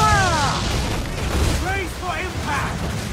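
Mortar shells exploding in Assassin's Creed IV: Black Flag, heavy booming blasts rolling through a dense, loud naval battle din, with voices calling out over the rumble.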